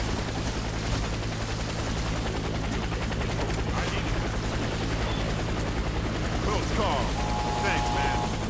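Helicopter in the video game Warface during a co-op extraction, a loud, continuous rotor thrum throughout with bursts of gunfire and mechanical noises layered over it, and game voices talking.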